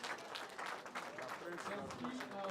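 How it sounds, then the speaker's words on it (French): An audience at a formal ceremony applauding, clapping that rises and falls in waves while voices carry over it, heard at a low level. "nous applaudissons très très fort"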